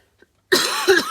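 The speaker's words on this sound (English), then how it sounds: "I'm going to cough." A single close, rough cough bursts out after a moment of near silence, followed by a second chesty push, from someone battling a minor illness.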